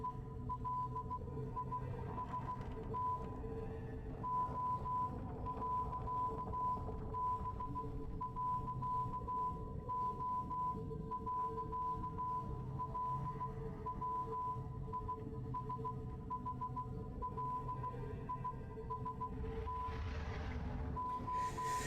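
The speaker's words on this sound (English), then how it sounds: "Sorry for the Morse code in the background, but I'm trying to see if it's easy to decode or not." Morse code beeps play quietly in the background as a steady series of short and long high tones in irregular dot-and-dash groups, over a low continuous hum for about twenty seconds.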